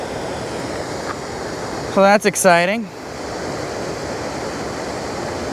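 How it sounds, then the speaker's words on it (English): Broad steady rush of water pouring over waterfalls in a desert canal system, continuous and fairly close, with someone briefly speaking over it. "We've got more waterfalls here in the canal system"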